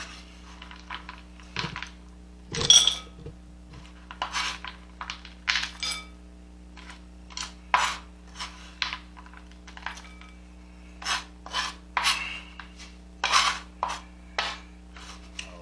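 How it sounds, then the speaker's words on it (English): Chopped chocolate pieces scraped and tipped into a bowl, a series of short dry rasping and tapping bursts, close and fairly quiet, with no talking. "We're going to go ahead and transfer this into the bowl here."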